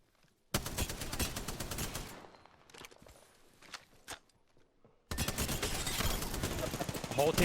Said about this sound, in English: I'm getting sniped from another team